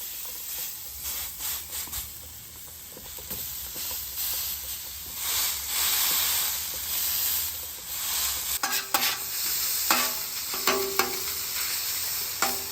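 Hash brown patties fry on a hot griddle, a loud close sizzle and hiss that swells and ebbs, with occasional scraping and stirring clatter.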